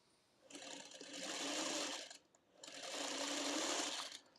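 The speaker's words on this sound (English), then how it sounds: "We're just going to sew a 1/4 inch along this raw edge." A sewing machine runs a quarter-inch seam along the raw edge of quilting fabric, buzzing steadily through two long runs with a brief pause between them.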